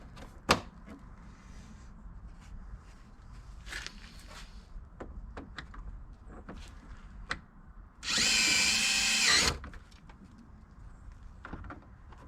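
A power drill drilling into plastic whirs loudly in one burst of about a second and a half, amid quiet clicks and handling noises.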